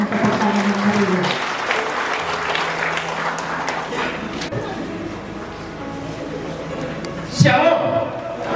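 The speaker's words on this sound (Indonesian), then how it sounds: "Mari kita berikan kemuliaan bagi Tuhan dengan tepuk tangan yang meriah." A church congregation at a consecration service claps warmly and steadily for several seconds, a dense sustained patter filling the hall, with a few voices mixed in and a brief louder burst near the end.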